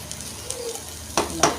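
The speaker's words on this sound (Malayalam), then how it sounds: "ഇതാ ചുള്ളി കഴുകി വറക്കുകയാണ്" Small washed prawns fry in a hot pan with a steady low sizzle, broken by two sharp stirring scrapes near the end, close and alone.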